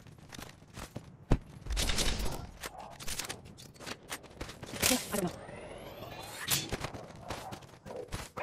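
Bursts of gunfire from the video game Apex Legends, a sharp loud crack near the start followed by clustered volleys and whooshing effects, mixed with game sounds and in-game voice chatter.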